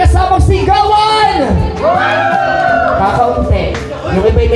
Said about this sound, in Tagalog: Magpalakpakan na may kasamang sigawan!